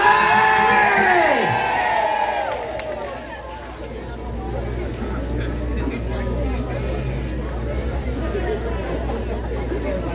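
A church audience cheers, whoops and shouts together in a big hall, a loud excited roar with high yells at the start that eases slightly before settling into steady crowd noise and chatter.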